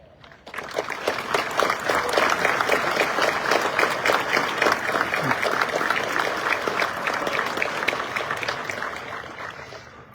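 Sustained applause from a crowd at a high school graduation ceremony, dense steady clapping that starts abruptly and holds at full strength for about ten seconds before easing slightly.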